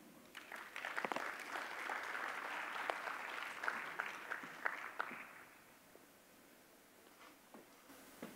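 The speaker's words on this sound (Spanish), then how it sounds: "Recibamos con un aplauso a Jaime Besa" Audience applause at an international mining congress panel, steady clapping for several seconds that thins and fades into near quiet.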